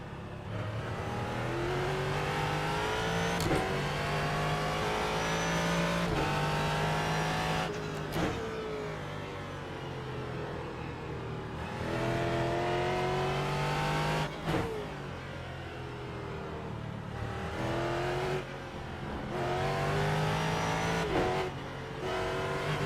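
A Ford GT3 race car engine at Virginia International Raceway in iRacing howls up through the gears, with sharp upshifts and short throttle lifts repeating throughout, close and loud, with no talking.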